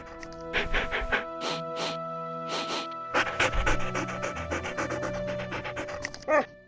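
Ghost dogs panting in the Nancy Drew: Ghost Dogs of Moon Lake video game, rhythmic close-up breathy panting in repeated bursts with a steady game music drone underneath.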